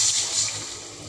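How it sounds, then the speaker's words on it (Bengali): Water pours into a pan of Bengali vegetable and hilsa curry with potatoes, beans and cauliflower, giving a brief, fairly faint hissing gush that tapers off. "এখন জল দিয়ে দেব"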